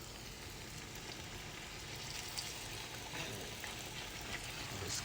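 Chicken melt sandwich frying in a pan, a steady close sizzle with soft crackle and hiss throughout, no talking.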